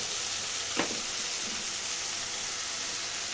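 Tomato pieces sizzle steadily in a pan for tomato rice, a close even hiss with one brief scraping stir near the start.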